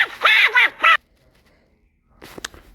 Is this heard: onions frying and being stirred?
no